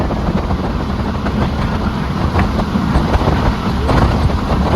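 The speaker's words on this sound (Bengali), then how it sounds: "অনেকক্ষণ ওয়েট করার পর ট্রেন চলে এসেছে" A passenger train pulls into a station on a rainy day, giving a loud continuous rumble with clattering wheel noise and a little wind buffeting, and no voices.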